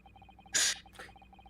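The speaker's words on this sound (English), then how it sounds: "I sneezed." A single sharp human sneeze bursts out briefly and close, followed by a short breathy after-sound over a faint looping game music background.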